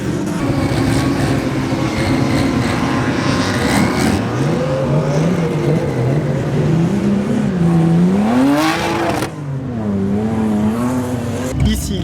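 Off-road 4x4 vehicles at a desert festival in the United Arab Emirates, loud engines revving and rising in pitch, close and continuous, with crowd voices mixed in.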